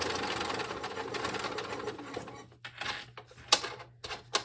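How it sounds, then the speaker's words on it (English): A sewing machine runs in a fast, steady mechanical stitching rhythm, then slows into a few short stops and starts with brief clicks. "I'm gonna sew up to about 3 or so stitches away from that mark"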